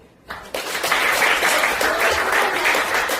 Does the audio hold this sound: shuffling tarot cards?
no